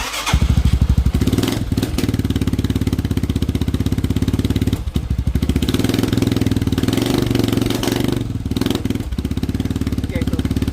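Motorstar Star X 175 motorcycle engine idling after its exhaust muffler was repacked with new fiber, a steady close-up throb running unbroken throughout, with brief dips and a person talking over it.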